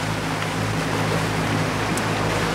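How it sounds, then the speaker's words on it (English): A yacht's engine runs steadily in the background during hurricane season off Grenada, a constant low hum beneath broad wind and water wash, with no talk. "As you can tell, the engine is running now. You can hear it in the background,"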